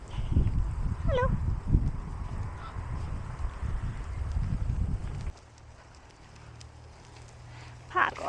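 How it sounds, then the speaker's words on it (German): Geese and goslings honk repeatedly in a park along a cycling route between Dresden and Meißen, loud and close over steady outdoor noise and a voice, then the flock quiets before a final honk. "Gänseküken."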